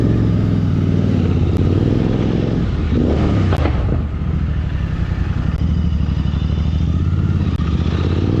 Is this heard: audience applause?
no